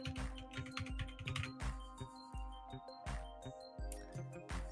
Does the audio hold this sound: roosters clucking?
no